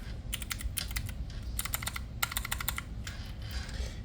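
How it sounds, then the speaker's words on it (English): Clicky keystrokes on a Keychron Q4 mechanical keyboard come in quick bursts with short pauses, close and crisp over a quiet background hum. "And you can start typing right now."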